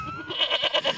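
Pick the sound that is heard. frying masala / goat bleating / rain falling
goat bleating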